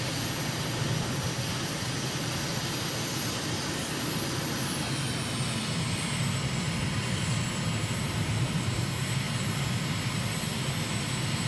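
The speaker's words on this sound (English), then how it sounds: "I guess we'll fly down over the airport between the runways" A jet airliner flies low over Shanghai's airport between the runways in a Microsoft flight simulator, its engine roar a steady, broad, loud drone with a faint high whine that holds throughout.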